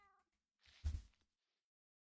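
A cat in the video game Minecraft gives a single short meow, close and fairly loud, after a brief bit of faint sound and before silence.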